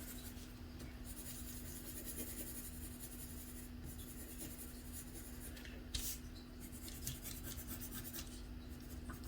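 A colored pencil lightly shading paper for a coloring page, a soft continuous scratchy rubbing close up, quiet and even with a few slightly firmer strokes.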